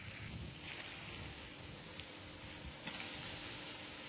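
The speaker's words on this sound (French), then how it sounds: "Une fois que notre sucre commence à caraméliser, regardez, il commence à blondir légèrement, on va ajouter l'ananas piqué à la réglisse." Pineapple pieces on licorice skewers sizzle and fry as they go into a pan of sugar just starting to caramelize, giving a steady, close, hissing crackle throughout.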